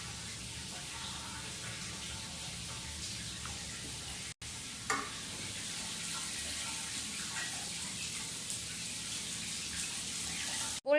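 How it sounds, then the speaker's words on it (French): A shower runs in a villa with faulty water, giving a steady, fairly loud rushing hiss that breaks off briefly, then resumes and ends with a small clatter. "je laisse la douche couler"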